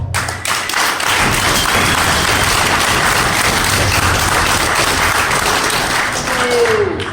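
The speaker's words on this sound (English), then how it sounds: "So if anybody deserves the applause, it's him for doing what he did for us." Loud, sustained applause and clapping from a wrestling event crowd at a CWA Wrestling show, a dense, continuous roar of hands filling the hall for several seconds with faint voices mixed in.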